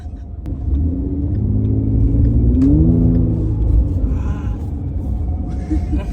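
A car being driven, with steady engine rumble and a rising revving whine in the middle, loud and close, with faint voices briefly underneath.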